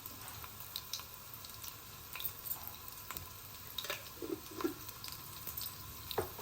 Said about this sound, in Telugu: ఆవాలు చిట్పట్ మనాలి